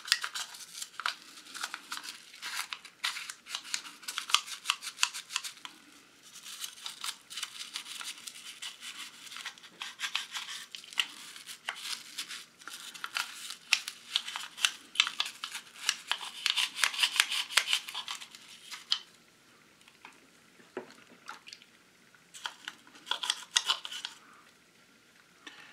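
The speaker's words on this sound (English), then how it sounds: "Let's just scrub it off and it's gonna be really nice." Paint is scrubbed off the plastic interior tub of a Jo-Han 1971 Oldsmobile 442 model kit, making close, irregular bursts of scratchy rubbing and brushing with short pauses between strokes.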